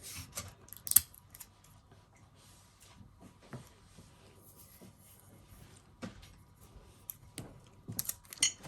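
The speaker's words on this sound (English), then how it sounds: "So now I'm just gonna put as much tape as I possibly can on it." Tape is pulled and pressed onto an 11oz sublimation mug in quiet, scattered crackles and soft ripping snaps. Clusters of faint, close handling noises are separated by brief pauses.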